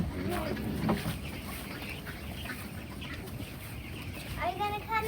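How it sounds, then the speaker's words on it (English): Little white chickens on a farm cluck and squawk in short, scattered bursts amid ducks and other fowl, with low background noise and occasional voices nearby. "The little white chickens."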